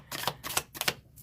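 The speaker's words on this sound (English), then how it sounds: "It took me a while to be able to shuffle, especially this deck." Tarot card deck being shuffled by hand, giving a few quick papery riffling bursts in a loose rhythm, close and fairly quiet with no talking.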